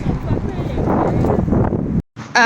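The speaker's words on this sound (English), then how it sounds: "it's very, very, very windy out and very cold." Loud, blustery wind buffeting the microphone in heavy rumbling gusts, cut off abruptly near the end by a sharp tonal sound.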